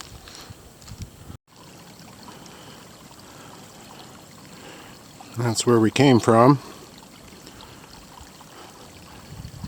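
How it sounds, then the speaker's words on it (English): A small creek flows across a backpacking trail at a stream crossing in Shawnee State Forest. Steady, faint water noise runs throughout, with a brief spoken remark over it near the middle. "Really small little creek crossing here, stream crossing. Pretty good flow there."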